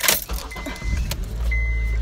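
Someone gets into a car on a cold day with rustling and bumping movement, a thud like a door closing, and then a steady low rumble with a faint high whine inside the cabin.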